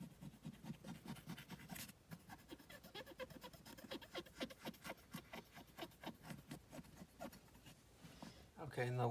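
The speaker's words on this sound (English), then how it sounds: "I'll continue using the other side of the dry Q-tip and remove anything else here" Dry cotton swab rubbing and scraping over the plastic of a Taito Arkanoid NES controller, a close, soft rhythmic scratching in repeated short strokes, with someone talking over it.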